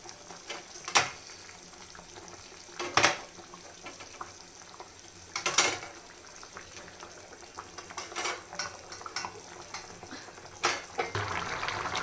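Pieces of hilsa fish seasoned with turmeric and salt sizzle and fry in a pan, a soft steady crackle broken by a few sharper bursts as pieces are added or turned.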